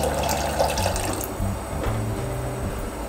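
Water pours steadily into a pot to thin chicken broth for a Yunnan rice noodle soup base, a close, continuous splashing rush with no voices.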